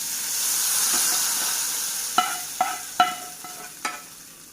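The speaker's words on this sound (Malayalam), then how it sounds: "നമ്മൾ കടുക് പൊട്ടിച്ചത് ഇനി നമുക്ക് കറിയിലേക്ക് ചേർത്ത് കൊടുക്കാം" Mustard-seed tempering goes into a jackfruit-seed and mango curry. A soft sizzling hiss is followed by four or five sharp metallic clinks of a utensil against the pot, all close by.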